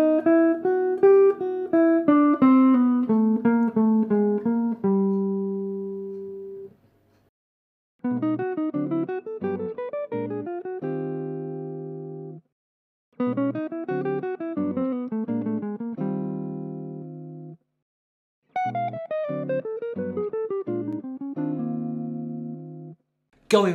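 A complete bebop lick over jazz changes, played slowly on a pitched instrument in four separate runs of flowing notes. Each run ends on a few held tones and is followed by a short silence. No voices are heard.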